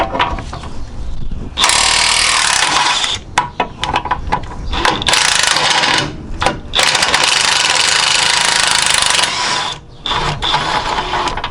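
Power tool, likely an impact wrench, loosening a 19 mm brake caliper bolt on an Accord during a Brembo brake swap, heard as loud sustained ratcheting bursts in two long runs separated by brief pauses and clicks.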